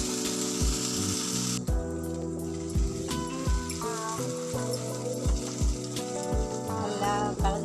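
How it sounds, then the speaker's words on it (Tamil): Ground jackfruit paste stirred in a hot pan for jackfruit halwa, with a rhythmic sizzling scrape repeating steadily under tuneful background music. "இப்போ அரைச்சி வச்சுருக்க பலாப்பழ பேஸ்ட்டு போட்டுருவோம். நல்லா போட்டு மிக்ஸ் பண்ணி கலக்கிடுவோம்."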